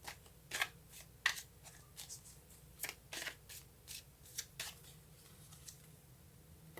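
Tarot cards being shuffled and drawn: a series of soft, quick papery riffles and flicks in irregular bursts, close and quiet against a low steady hum.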